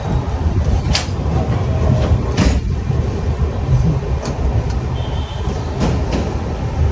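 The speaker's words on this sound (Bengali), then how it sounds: "ছটা পাঁচ মিনিটে ট্রেন কিন্তু আমাদের ছেড়ে দিল টাটানগর স্টেশনের এক নম্বর প্ল্যাটফর্ম থেকে হাওড়া যাওয়ার উদ্দেশ্যে" Steel Express train 12814 pulling out of platform one at Tatanagar station, bound for Howrah: a steady, loud rumble of rolling carriages with occasional sharp clanks and squeaks from the wheels, no talking.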